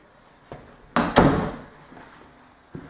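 A door in an empty rental home opens and closes with a couple of sharp thuds and a rattling bang, then a softer knock follows in a quiet room.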